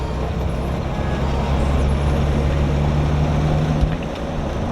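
A 2003 Jeep Wrangler TJ drives along with a steady low engine and road drone heard from inside the vehicle, the engine hum shifting once as it changes gear.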